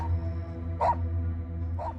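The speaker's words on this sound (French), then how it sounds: "on voit juste un des chiens qui m'aboie dessus" Dogs in a meadow in rural Martinique, one barking at a walker: two sharp single barks about a second apart over a constant low background hum.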